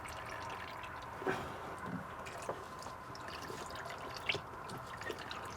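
Quiet trickling and dribbling of water and diesel draining from a clogged fuel filter, with occasional drips and splashes standing out against a steady low background.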